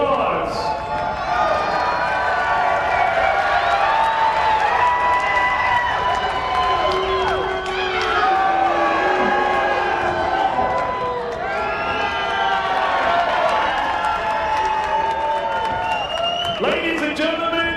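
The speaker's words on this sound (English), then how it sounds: "You choose the winner by your applause." A large arena crowd at a 1999 BattleBots super heavyweight robot combat event in Las Vegas roars with cheers, whoops and applause, a loud sustained swell with shouts rising and falling and an announcer's voice over it.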